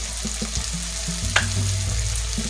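Onions and green chillies sauté in a pan for crab curry, giving a steady close sizzle broken by scraping stirs, with a low drone underneath.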